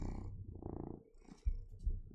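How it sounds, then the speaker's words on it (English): A cat purrs softly in a close, quiet ASMR recording, the low rumbling coming in short waves broken by a couple of faint soft taps near the end. "Oh, is it purring ASMR time? Is it purring time?"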